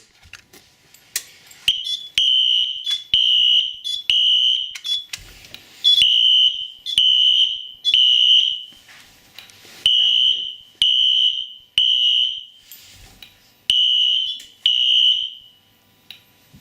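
A fire alarm sounds after a manual pull station is pulled during a fire alarm system test: a loud, high electronic tone in repeated short bursts, grouped in threes with brief gaps, close to the microphone, with no talking.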